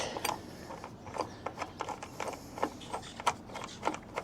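Ratcheting clicks from a wrench cranking down a front bolt on a JSPORT roof rack bracket of a Honda Ridgeline, coming as a steady run of short, close mechanical ticks with no talk.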